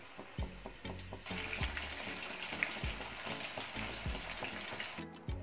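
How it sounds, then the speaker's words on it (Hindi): Pieces of pomfret fish fry in hot oil, a steady close sizzle with low thumps and clatter of handling in the pan, running throughout with no voices. "इसी तरह मैं अब सारे फिश के पीसेस को फ्राई कर लूंगी"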